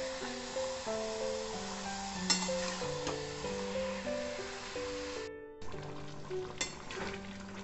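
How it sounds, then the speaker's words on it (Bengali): Chicken fries with spices in a pan for a chicken curry, giving a soft continuous sizzle with occasional stirring scrapes under a steady melodic music bed. "এরপর আমি এটা 10 মিনিট ধরে চিকেনটা কষিয়ে নেব।"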